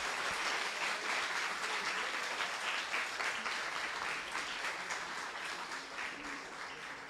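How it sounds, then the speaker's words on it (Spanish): Steady audience applause at a conference, honouring an invited guest, dense and continuous for several seconds and easing slightly toward the end, with faint voices beneath. "primero le damos un fuerte aplauso a nuestro invitado"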